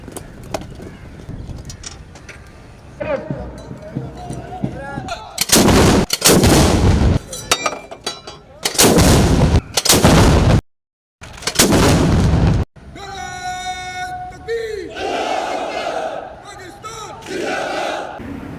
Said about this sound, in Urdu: صبح تینوں مسلح افواج جو ہیں ان کی جانب سے دن کے آغاز پر 21 توپوں کی جو سلامی ہے وہ دی گئی۔